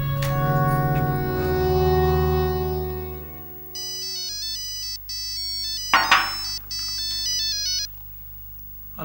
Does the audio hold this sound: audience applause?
no